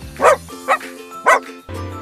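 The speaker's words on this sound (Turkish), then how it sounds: "This is a dog. How how?" Three short, sharp dog barks spaced apart, fairly close and clear, followed by a low muffled sound.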